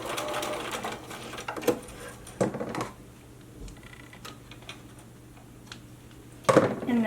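A sewing machine back stitches near a zipper pull in short bursts, fairly quiet, ticking and whirring between pauses, with a louder burst of stitching at the end.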